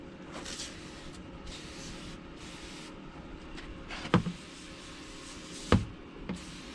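Cleaner sprayed onto the interior surfaces of a Honda Accord gives a few soft hissing bursts in an irregular rhythm, close by, along with a couple of sharp clicks from the trigger or the handling.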